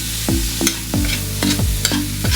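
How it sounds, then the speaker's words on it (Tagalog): Bitter gourd being stirred in a hot pan with pepper, salt, sugar and soy sauce, a spatula scraping in regular strokes about every third of a second over a steady sizzle, close and loud. "Haluin lang ito ng konti hanggang mag-combine ang lahat ng flavor"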